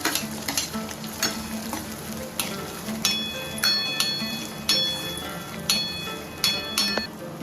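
Finely chopped chillies and onion frying in oil after mustard seeds have crackled, with a lively sizzle and a steady run of sharp spatula taps and scrapes against the pan.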